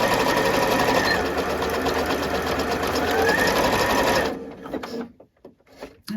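Sewing machine zigzag stitching over elastic for an elasticated cuff, a loud, close, continuous whirring run that stops abruptly after about four seconds, followed by a few faint handling clicks.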